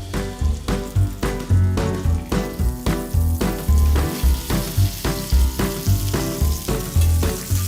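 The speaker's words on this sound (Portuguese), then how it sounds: "vou refogar esse pistache aqui rapidamente" Pistachios sauté in melted butter in a pan, loud close sizzling and frying broken by a regular rhythm of stirring strokes, with no voice.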